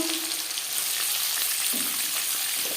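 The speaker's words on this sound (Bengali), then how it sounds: "দশ পনেরো সেকেন্ড পাঁচ ফোড়ন শুকনো লঙ্কা ভেজে নেওয়ার পর দিয়ে দেবো কুমড়ো" Pumpkin with panch phoron and dried chilli fries in hot refined oil, a steady, bright sizzling hiss close by, broad and even for a few seconds, with no speech over it.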